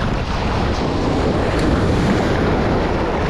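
Ocean waves crash continuously at a seaside fishing spot while strong wind buffets the microphone, a loud, dense, unbroken roar with no clear breaks.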